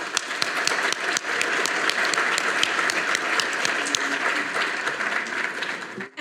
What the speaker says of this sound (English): A round of applause for our panel today